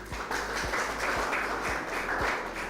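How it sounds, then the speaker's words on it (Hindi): Audience at an agricultural farmers' forum clapping to welcome the expert panel; continuous, even applause with a faint regular thump running underneath. "सबसे पहले एक्सपर्ट्स का तालियों के साथ स्वागत कीजिए।"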